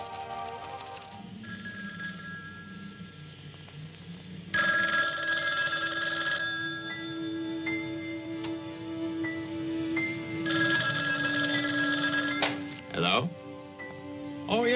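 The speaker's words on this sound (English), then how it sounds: "How about that telephone up at the Butler house? Is it working? Well, try it now." A telephone rings in repeated bursts, two long rings with quieter gaps between, heard indoors in a 1974 horror mystery thriller amid background music and tones.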